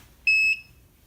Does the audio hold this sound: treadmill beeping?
yes